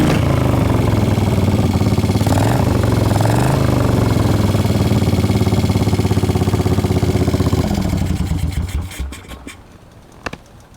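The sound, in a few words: 1975 Moto Guzzi cafe racer motorcycle engine running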